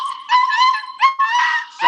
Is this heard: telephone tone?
no